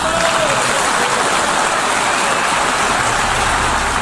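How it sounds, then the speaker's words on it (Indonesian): Country delegates at the United Nations applaud, a dense, even wash of clapping that runs steadily and loudly throughout. "Pengakuan ini langsung disambut tepuk tangan meriah dari utusan negara yang hadir."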